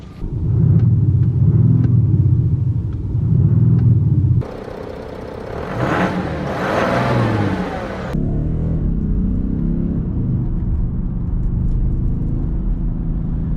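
A 2020 Audi S6 with a 3.0 V6 mild-hybrid diesel engine, first a pulsing idle rumble outside, then a brief louder rev, settling into a steady low drone heard from closer inside.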